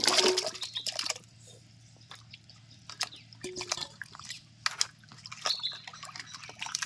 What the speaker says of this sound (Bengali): ভালো করে ধুয়ে তুলে নিচ্ছি